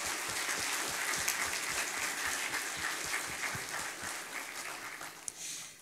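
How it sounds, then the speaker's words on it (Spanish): An audience at a mathematical modelling conference applauds the organizing committee, with sustained, full-room clapping that holds steady and then thins slightly toward the end. "quisiera que les diéramos un aplauso a todo el comité organizador por toda esta labor."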